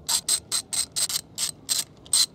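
A hand ratchet loosens the bolts on a Honda Grom to fit frame sliders, giving nine crisp, close, evenly spaced ratcheting bursts in quick rhythm, alone with no talk.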